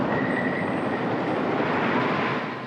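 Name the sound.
wooden roller coaster train rattling along the track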